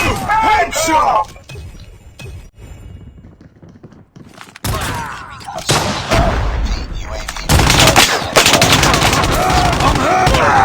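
Sniper rifle gunfire in a bolt-action video game, loud, sharp shots and impacts mixed with dense battle noise and voices talking, the action growing louder and busier toward the end.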